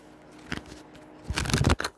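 Tarot cards being shuffled by hand during a spiritual reading, a couple of soft riffles followed by a louder, rapid burst of card flicking near the end, close and alone in a quiet room.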